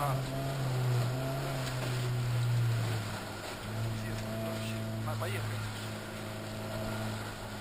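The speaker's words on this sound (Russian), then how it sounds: "Газует просто" A rally car engine drones loudly and steadily, its pitch rising and dipping slightly as the throttle shifts, with muffled voices underneath.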